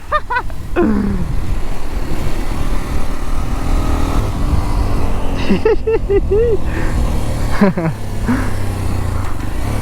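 A car rushes past on a road, a loud roaring engine sweep with shifting pitch, heard under excited shouting voices and motorcycle engine noise.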